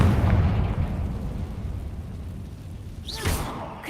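A Confringo fire spell bursts in the Hogwarts Legacy video game, a heavy low boom that rumbles and fades, followed by a brighter whooshing crackle of flame near the end.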